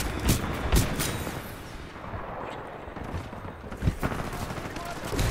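Hemlok rifle fire in Titanfall 2, with loud bursts of shots and booming impacts spread across a few seconds amid continuous battle noise. A voice speaks underneath the gunfire.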